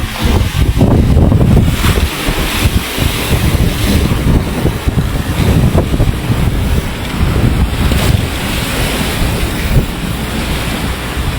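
Large ocean waves break and wash loudly under a gusty sea wind buffeting the microphone, a continuous heavy roar with repeated surges and no voices.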